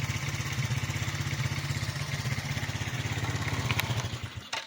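Teen quad bike engine idling quietly, a steady rapid low putter with even pulses throughout that ends with a brief click as it is shut off.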